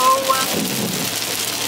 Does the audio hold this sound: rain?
yes